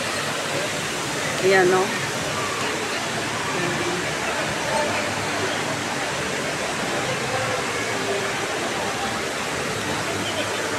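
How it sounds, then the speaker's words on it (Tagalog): The indoor waterfall at the Dubai Mall gives off a broad, steady rush of falling water that fills the space, with a crowd murmuring and someone speaking briefly over it. "Dito yan guys sa waterfalls ng Dubai Mall."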